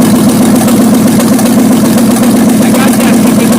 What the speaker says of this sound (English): You can hear that popping sound in the carburetor.